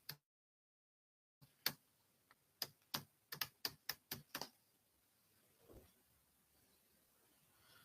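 Fingers type on a computer keyboard, tapping out a message in a chat window: a quiet, uneven burst of sharp key clicks in a still room with no talking.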